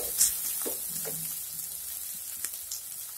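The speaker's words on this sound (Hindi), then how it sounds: "इसे हम 2 से 3 मिनट यूं ही भून देंगे।" Sabudana khichdi roasts in a pan over a low flame, a soft, quiet sizzle with a few faint stirring scrapes and taps over a few seconds, no voices.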